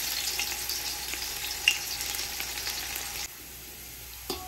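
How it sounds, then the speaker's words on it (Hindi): Onions frying in hot oil until golden brown give a steady, bright sizzle alone, with no one talking, then it quiets abruptly near the end and a single soft clink follows. "जब ऑयल अच्छे से गर्म हो जाए तो उसमें हम पहले प्याज गोल्डन ब्राउन होने तक फ्राई कर लेते हैं।"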